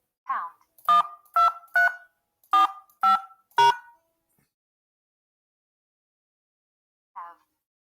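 Six short two-tone telephone keypad beeps in quick succession as a voicemail password is keyed in, followed by silence and one faint tone near the end; no talking.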